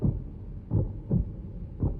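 Deep heartbeat effect from the Zelda Breath of the Wild 2 trailer, several muffled low thumps at an uneven pace over a dark rumbling bed, close and moderately loud with no talking.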